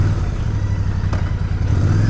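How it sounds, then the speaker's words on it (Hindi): A Royal Enfield Bear 650 motorcycle runs on the road with a steady, loud, close engine drone and a brief clatter partway through. "मैं सोचा आपको भी दिखा दूँ चला के कि मोटरसाइकिल का परफॉर्मेंस कैसा है"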